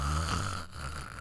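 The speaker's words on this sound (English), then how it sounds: "you carried on snoring when you were awoke" Snoring from a character in a Minecraft Xbox game, one steady, close rasping snore filling the short moment with no talk over it.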